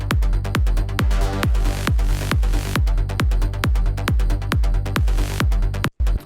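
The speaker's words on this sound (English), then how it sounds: "So I've also got another saw bass here," Saw bass synth bounced from Serum, layered with white noise, playing short repeated punchy notes in a steady rhythm with bright hissy tops, alone and loud, ending with a brief gap near the end.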